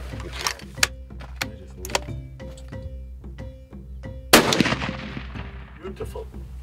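Rifle fired at a 50-metre target during a South African antelope hunting trip, a single loud, sharp crack with a fading tail, amid steady background rumble and a few smaller ticks.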